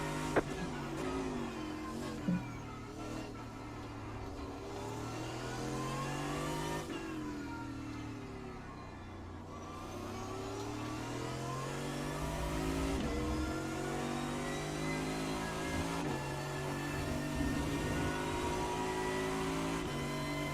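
Race car engines in a racing video game rev and climb through gears, pitch sweeping up and falling as cars shift, steady and fairly close with no speech.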